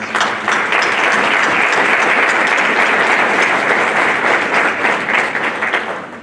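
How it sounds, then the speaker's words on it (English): An audience claps loudly at a National Junior Honor Society induction ceremony, thick continuous applause from many hands held for about six seconds before tapering slightly at the end. "So let's give one more round of applause."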